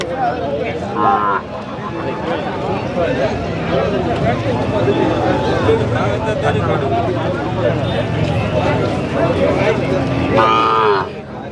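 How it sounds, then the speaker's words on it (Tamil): Kangeyam cattle at a busy village cattle market, with several loud moos rising over continuous crowd chatter and people talking nearby. "செல்வண்ணாவோட மாடுதாங்க இது"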